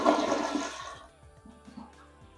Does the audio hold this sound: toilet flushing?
yes